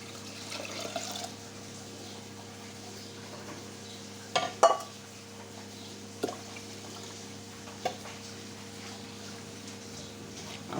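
Water is poured into a pot of rice and lentils during home cooking, giving a steady close rush with a few sharp clunks of the pot partway through.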